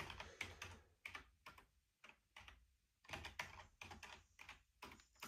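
Computer keyboard keys typed in quick bursts while a password is entered during a Slackware Linux install on a Raspberry Pi 5, close and clear with short pauses between runs of keystrokes.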